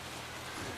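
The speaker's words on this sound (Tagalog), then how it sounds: "Lakas ang ulan." Dense, steady hiss of heavy rain pouring down, a broadband wash with no gaps and no voices.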